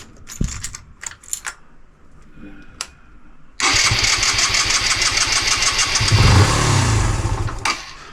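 A Van Van 125 motorcycle engine, left unrun for 20 years, cranks with a few short mechanical clicks, then catches and runs loud and steady, revving up briefly before settling, close by.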